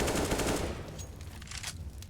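An AK rifle fires in rapid automatic bursts in a competitive video game match, the sharp gunshots coming close and loud before thinning into scattered shots.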